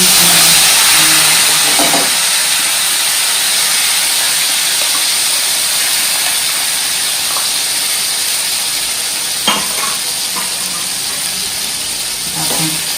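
Cumin seeds and asafoetida sizzling in hot oil for a methi palak sabzi, a bright, steady hiss that fills the whole clip, with brief clinks and a soft knock partway through.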